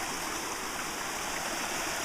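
Water rushing down a bisse irrigation channel after high water, a steady, dense flowing rush that stays constant and close throughout, with no voices.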